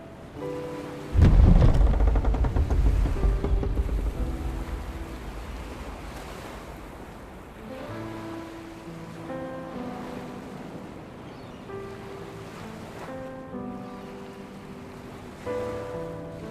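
Ocean waves in a video game: a heavy crash early on, then surf that rolls and fades softly beneath a melodic music score, with another swell near the end and no talking.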